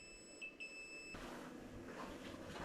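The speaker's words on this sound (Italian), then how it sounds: "Si sente una serie di beep perché è entrata in funzione la telecamera" A pair of short, high electronic beeps from a wireless car and camper camera starting up sound close together, followed by a soft hum and faint background noise.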